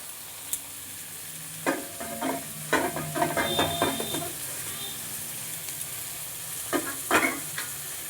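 Grated bottle gourd and mixed vegetables sizzle softly in a pan while a spoon scrapes and stirs in bursts of clattering strokes, pausing between rounds.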